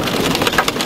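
Hail pelts down during a storm chase in the central USA in May 2002, a dense, loud clatter of hard impacts with no voices.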